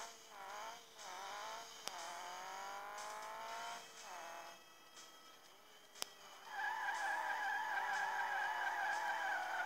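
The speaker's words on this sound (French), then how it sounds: "je voulais juste tester un drift avec 86 mètres" In the Rally Fury racing game, a car drifts with long wavering tire squeals over a steady engine buzz, the skid growing louder and brighter toward the end, with a couple of sharp clicks.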